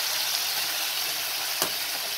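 Tomato gravy for matar paneer frying in hot oil in a pan, a steady close broadband sizzle throughout with one brief stir or clink near the end, no voices.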